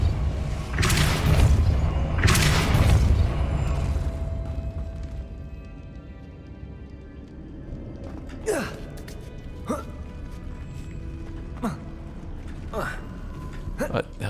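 The Depulso spell is cast in the Hogwarts Legacy video game with two loud bursting whooshes, then a run of sharper thumps and creaking mechanical clunks, with a voice heard briefly.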